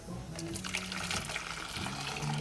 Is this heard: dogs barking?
no